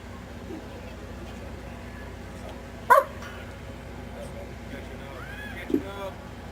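A dog barks at a USO show on a military base in Balad, Iraq, giving two short, separate barks a few seconds apart over steady crowd murmur and nearby talk.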